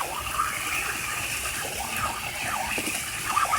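Water rushes and gushes steadily through a homemade flat gutter sluice in a Wisconsin backyard, a continuous close splashing flow with no voices.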